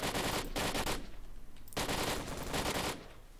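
Abakan rifle in S.T.A.L.K.E.R. Lost Alpha firing two sustained automatic bursts, each about a second long, loud and close with a short gap between them.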